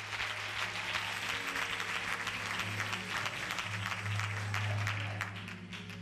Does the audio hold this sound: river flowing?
no